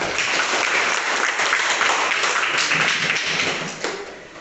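Classroom applause for a student group in an Islamic religious education lesson: dense, steady clapping from a room full of people for about four seconds, then tapering off at the end.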